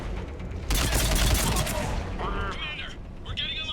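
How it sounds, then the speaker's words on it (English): Mortar fire in a Mass Effect 3 battle, a dense burst of explosive booms and gunfire crackle that erupts loudly and stays busy for over a second, then eases under chirping electronic game effects. "Commander, we're getting a lot of mortar fire."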